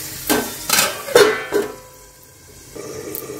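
Metal clanks on a cooking pan with a lid as a cauliflower roast cooks, several quick knocks and scrapes up close, then a quieter bubbling hiss.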